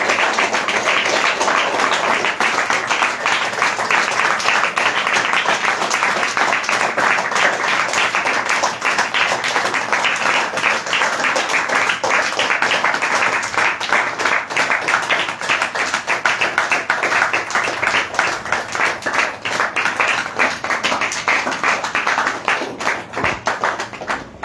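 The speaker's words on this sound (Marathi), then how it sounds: "आता येशूसाठी किती टाळ्या वाजवणार." A congregation at a Christian prayer meeting claps for Jesus, a dense, sustained burst of many hands that stays loud and fairly even throughout.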